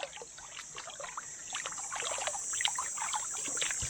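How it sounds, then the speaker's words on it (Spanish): Water swirling and sloshing in a gold pan while panning for gold, a steady close trickling wash that builds slightly over a few seconds, with no voices. "Ya empiezo a mover la batea en círculo."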